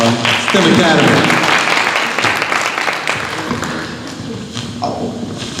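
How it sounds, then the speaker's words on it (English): Audience applause for volunteers from a STEM Academy at an evening lecture event, a loud dense burst of clapping that slowly thins and fades over several seconds, with some voices mixed in. "let's give our volunteers a round of applause from our STEM Academy"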